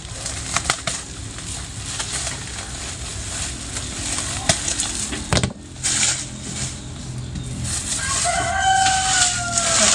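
Pet roosters crowing in the morning: a drawn-out crow rises near the end over steady outdoor background noise, with scattered bumps and clatter earlier and no talking.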